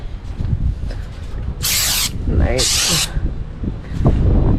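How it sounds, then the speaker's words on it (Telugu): A handheld snow spray bottle, unboxed and tested, lets out two sharp, hissing bursts of spray, each about half a second long, over quiet background noise. "ఇప్పుడు ఒకసారి గట్టిగా స్ప్రే చేద్దామా?"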